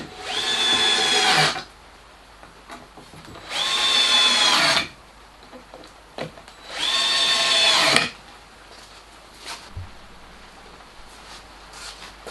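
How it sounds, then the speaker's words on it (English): A power drill bores through an aluminium strip in three separate bursts of a few seconds each, a loud close whine with short quiet gaps and a few faint knocks between. "The strip was drilled and countersunk and then screwed to the inner edge of the base plate."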